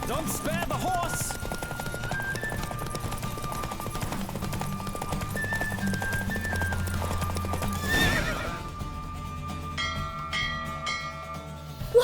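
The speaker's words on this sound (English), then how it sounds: "Don't spare the horse!" Horse hooves pounding at a steady gallop in The Witcher 3 video game, with a whinny near the start and a clanging bell-like strike around the middle, the clip-clop running continuously throughout.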